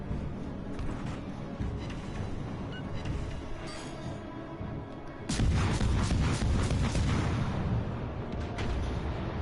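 Heavy naval gunfire from warship cannons in World of Warships Legends, a dense rumbling barrage that swells into a louder, sustained roar of booms partway through, with no talk over it.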